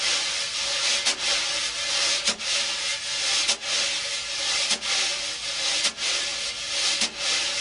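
Continuous scratchy swishing of a wire brush sweeping side to side across a drum head in constant motion, with soft regular accents about once a second, close up.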